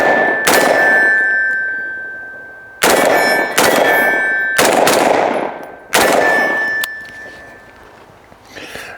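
Sabre AR-15 rifle fitted with a mil-spec style Hyperfire trigger fires five loud, sharp shots outdoors, one alone then four in a quick irregular cluster, each followed by a ringing echoing tail.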